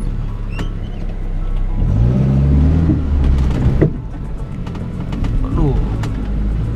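A four-wheel-drive vehicle's engine strains and revs while stuck on an offroad trail, a loud rising and falling drone with knocks and scrapes, and a person talking over it.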